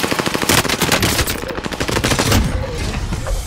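Rapid automatic gunfire in a battle royale shooter, loud and close, with dense rattling bursts that run continuously for several seconds.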